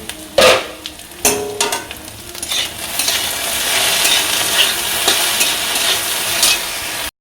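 Okra frying in a pan with no salt or turmeric yet, a few sharp clanks of a utensil against the pan at first, then a dense, steady sizzle that holds close and loud until the end.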